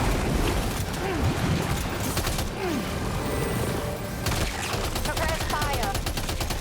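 Dense gunfire from the video game Death Stranding 2, a loud continuous fusillade of overlapping shots and bursts that runs through the whole stretch with some mechanical clatter and a voice talking over it.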